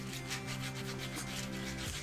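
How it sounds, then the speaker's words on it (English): Sanding on the surface of a cosplay harness for an Attack on Titan costume, a rapid rhythmic scratchy rubbing of short strokes, close and fairly loud over a faint steady hum. "I wonder how it goes if I put a little bit of sanding into it."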